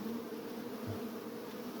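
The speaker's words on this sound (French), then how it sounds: "là, en ce moment, les abeilles, elles sortent" Honeybees streaming out of a hive in ivy-pollen season give a steady, soft, droning buzz that stays even and fairly quiet throughout, with no voices over it.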